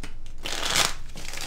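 A tarot card deck is shuffled in one brief, papery riffle that swells and fades, close and clear with no talking.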